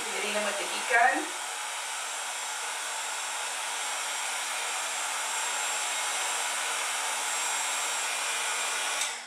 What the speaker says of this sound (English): We just keep hitting them with the heat gun.